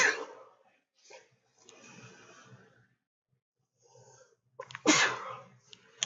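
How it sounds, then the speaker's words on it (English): A person with a cold breathes in with a couple of short, hesitant catches, pauses, then lets out one sharp, loud sneeze near the end, close to the microphone. "Gotta sneeze."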